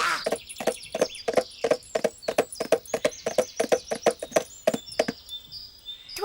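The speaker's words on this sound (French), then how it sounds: "Qu'est-ce qu'il est beau, ton cheval!" A horse's hooves clip-clop in a steady, brisk rhythm of sharp, evenly spaced knocks, close and clear, with no talk over them.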